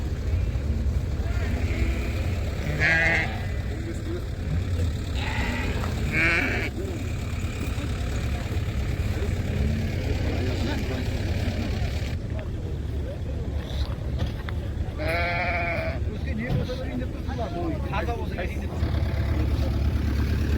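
Several ewes with lambs bleat in short bursts at intervals amid a busy crowd murmur and steady wind or engine rumble outdoors at a livestock market in Taraz, Kazakhstan.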